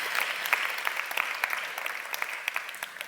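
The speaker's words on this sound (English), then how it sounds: "Give yourself a round of applause" A round of applause from a workshop audience, scattered individual claps standing out over a softer continuous patter, moderate and fairly close, lasting about three seconds.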